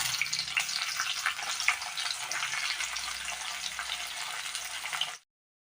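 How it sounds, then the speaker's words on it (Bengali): Chopped onion hits hot oil already holding garlic, a dense, loud, close sizzle for beans and potato bhaja that crackles steadily before cutting off abruptly. "এবার দিয়ে দেব আমি পেঁয়াজ কুচি"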